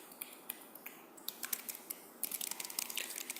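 Keys clatter on a computer keyboard during a Python programming lesson, a quick, uneven run of sharp clicks that starts sparse and faint, then grows denser and louder, heard close with no talking.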